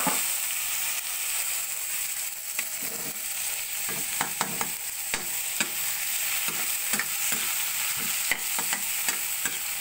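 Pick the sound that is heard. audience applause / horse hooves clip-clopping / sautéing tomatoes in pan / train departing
sautéing tomatoes in pan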